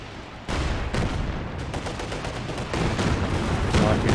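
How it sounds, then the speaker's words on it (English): Artillery barrage in the online strategy game Company of Heroes 2, a dense series of booming impacts and gunfire that swells louder over several seconds, heavy and continuous. "Like a barrage coming in."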